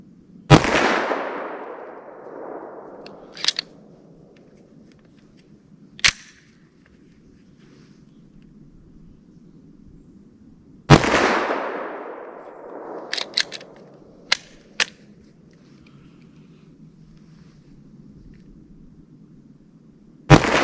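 10mm handgun firing Buffalo Bore Barnes ammunition: two heavy, booming shots about ten seconds apart, each ringing out with a long rumbling decay, followed by scattered sharp clicks and knocks and a third blast at the very end.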